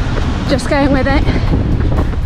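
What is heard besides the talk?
strong wind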